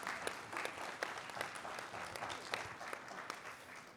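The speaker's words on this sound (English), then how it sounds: "Can we get a round of applause for that?" An audience at a youth leadership conference panel applauds, a steady patter of many hands clapping, fairly faint and distant, with no talking.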